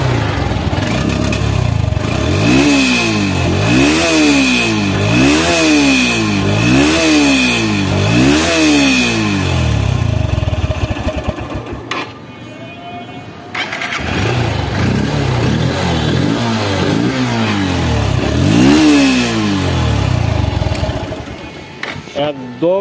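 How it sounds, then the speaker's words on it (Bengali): A Honda X Blade ABS motorcycle engine is revved repeatedly up close, loud rhythmic rises and falls, a short pause midway, then more throttle blips. "এই বাইকগুলো সাউন্ড একদম মিষ্টি হয়, কারণ জাপানি কোম্পানি"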